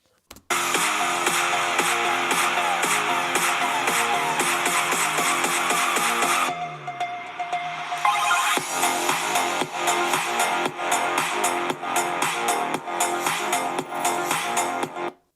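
Music plays loudly from the built-in speakers of a Samsung Galaxy Book4 Pro 14-inch laptop at 80% volume. The dense track briefly thins into a quieter passage midway, then returns full and continuous before stopping abruptly.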